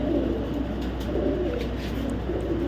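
Racing pigeons coo in soft, repeated throaty rolls close by, layered over a steady low background hum.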